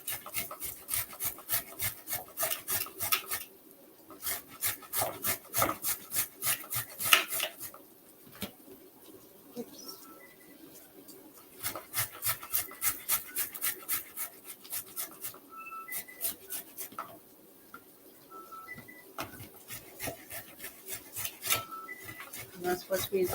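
Vegetables rasped on the large holes of a box grater for a Moroccan vegetable stew, close and steady: bursts of rhythmic scraping strokes with short pauses between them, and faint voices in the background at times.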